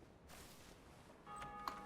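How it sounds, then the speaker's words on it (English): A bell rings in the Dark Souls game, the Bell of Awakening, as clear metallic tones over a low ambient game background near the end. "somebody already rang the Bell of Awakening"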